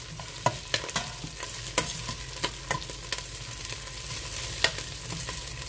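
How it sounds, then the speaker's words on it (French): Quartered shallots sizzling in a pan with translucent fried onions, a steady crackling fry punctuated by sharp scrapes and clacks of stirring, close and alone without voices. "Je vais venir verser mes échalotes que j'ai coupées en 4."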